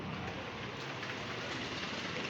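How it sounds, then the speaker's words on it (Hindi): Heavy rain pours down in Karachi in a steady, dense hiss with no pauses, close and even throughout. "बहुत तेज़ बारिश हो रही है"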